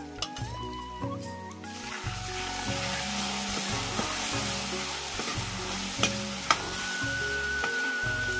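Homemade dal, rajma with another lentil, frying in a pan in a home kitchen in the Uttarakhand hills, sizzling steadily throughout with repeated stirring and a couple of sharp utensil clinks near the end, with no talk.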